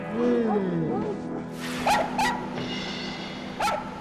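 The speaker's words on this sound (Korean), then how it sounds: "지금도 이제 저기 강아지들이 있으니까 예, 짖는 것 같아요." Dogs, including a Spitz, bark sharply on a street walk when they spot other dogs in the distance, with a few quick barks and yips rising over a person talking nearby.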